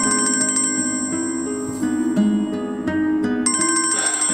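A mobile phone rings with an incoming call, a bright repeating electronic ringtone melody playing steadily and fairly loud throughout, with no talk over it.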